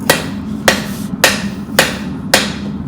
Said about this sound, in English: now on to forging the blade